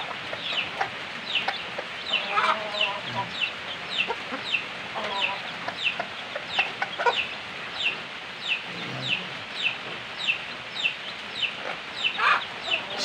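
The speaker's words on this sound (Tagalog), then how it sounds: "Yan po yung mga labuyo." Red junglefowl clucking and calling in a rural farmyard, with repeated short clucks scattered through and a few louder calls standing out over a steady background of birds.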